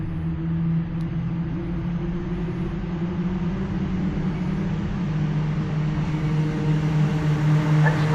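Caterham race cars run in formation behind a pace car at a racing circuit, a steady droning engine hum with sustained low tones that rises slightly toward the end.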